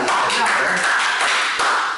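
A seated audience applauds for Ania, a participant at a subconscious-mind hypnosis training session. The dense, steady patter of many hands clapping is close and loud and lasts about two seconds.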